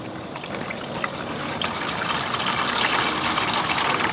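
CVT fluid draining from a warmed-up 2012 Nissan Rogue 2.5 S transmission, heard as a steady, close splashing pour into a catch container that grows slightly fuller and louder as it runs, with no voices.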